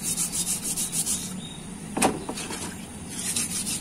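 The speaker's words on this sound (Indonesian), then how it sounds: "kita pakai amplas yang halus ya" Fine sandpaper rubs over a car's disc brake piston pot to clean off dirt, a steady scraping repeated in short strokes, with a sharper scratch near the middle and quiet background hiss throughout.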